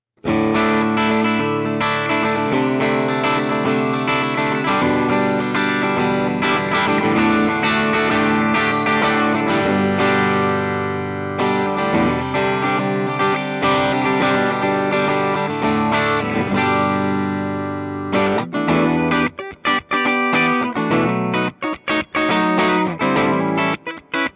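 A Fender Tom Morello "Arm The Homeless" electric guitar plays sustained chords and riffs dry through a Marshall Bluesbreaker amplifier, loud and continuous, ending in choppy, muted strums.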